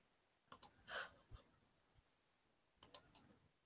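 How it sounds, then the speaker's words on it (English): A few sharp clicks, two quick pairs of near, crisp snaps separated by a soft breathy rustle and a gap of quiet, in an otherwise silent room. "Everyone's clicking."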